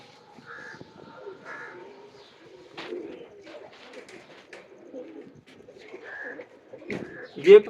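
Rampuri Teddy pigeons coo and call softly in a loft, with scattered low murmuring coos, a few sharper calls and wing or body rustles, fairly faint and close, ending with a louder burst near the end.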